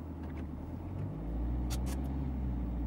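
Saab 9-3 1.9 TiD estate with front-wheel drive revving as its tires spin in snow, a steady close engine rumble that rises and stays loud, with brief hissing bursts of slipping tire near the middle.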